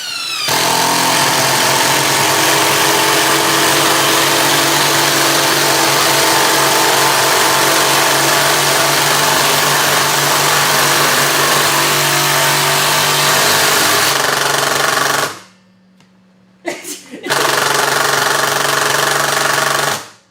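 DeWalt XR and Milwaukee Fuel impact drivers run together in a loud, continuous hammering whine that holds steady for about fifteen seconds, drops out briefly, then starts again.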